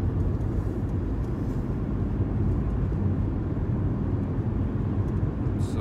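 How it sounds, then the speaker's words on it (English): Car driving on the road, a steady low engine and tyre rumble at moderate level, unbroken for several seconds with no speech. "So I'm just driving about at the moment"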